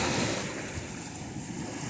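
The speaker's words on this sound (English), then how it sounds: "it's actually windy here" Wind blows steadily outdoors, a broad rushing noise buffeting the microphone with no voices.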